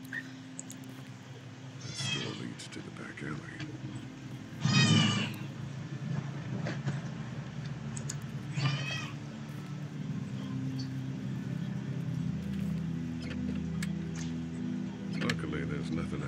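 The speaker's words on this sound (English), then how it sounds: "This annoying cat, bro." A cat in a room meows in The Walking Dead Season 1 Episode 1 game. Three or four loud, drawn-out meows come at intervals over a low background hum while a person talks.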